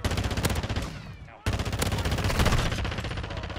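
Rapid bursts of automatic assault rifle fire in a first-person shooter game, dense and loud, with a brief pause before the shooting resumes steadily; a player's voice talks faintly underneath.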